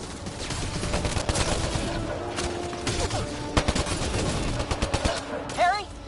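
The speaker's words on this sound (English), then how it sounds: "Just keep firing!" Rapid automatic gunfire in the shooter Mass Effect Andromeda, with dense bursts of shots, shouting voices over the battle and a whistling, warbling effect near the end.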